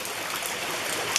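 Spring water spouting from rock and trickling down a hillside at a nature preserve, a soft steady splashing wash heard close and alone for about a second.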